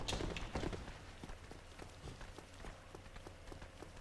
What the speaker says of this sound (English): I still hear footsteps